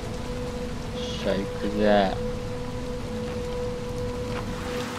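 Rain in the video game Little Nightmares II falls as a steady, even hiss through the whole stretch, with a short burst of excited talk rising over it near the start.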